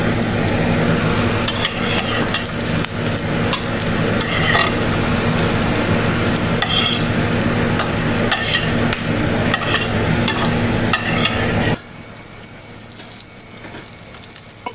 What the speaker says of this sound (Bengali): একটা করে ডিমগুলো আমি ভেজে নিচ্ছি, আর ডিমগুলো লাল হওয়া পর্যন্ত অপেক্ষা করব